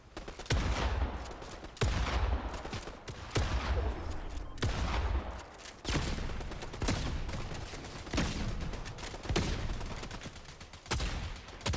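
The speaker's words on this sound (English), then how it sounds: "Wow, this is a good shotgun." Shotgun fire in a video game: a rapid series of loud, sharp blasts about every second or so, mixed with other gunfire and explosions in a dense, continuous battle din.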